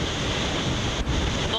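Ocean waves and strong wind roar steadily around a Volvo Ocean Race 2008-09 racing yacht at sea, a loud continuous rush of water and wind buffeting close to the microphone.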